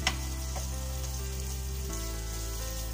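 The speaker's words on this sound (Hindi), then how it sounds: "और इसको अच्छे से फ्राई करेंगे" Onions fry steadily in a pan for masala bhindi, a continuous dense sizzle with a faint clink at the start, with a low hum running underneath.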